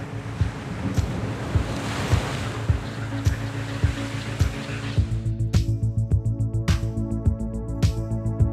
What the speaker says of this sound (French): On ressent l'eau, on ressent l'effet des vagues.